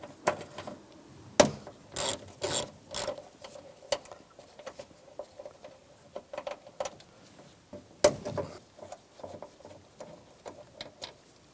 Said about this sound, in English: Using a 10mm socket, take these two bolts out.